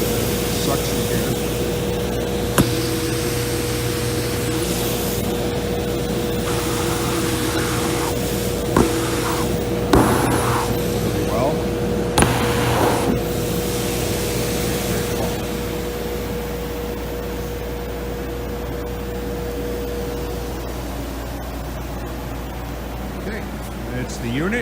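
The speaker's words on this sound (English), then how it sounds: "Got a piece of cardboard just to give you an idea of the suction here." Suction roar of a 2014 Robovent WeldVent DFP-800-1 fume exhauster with a 0.75 HP motor, running as a steady, loud broadband blower hum with a constant tone, and a few brief knocks and rustles from cardboard held at the intake.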